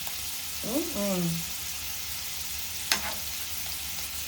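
Fish caught by children sizzle in hot oil with salt, chili and garam masala, a soft steady frying hiss under a brief voice, followed by a sharp clink partway through.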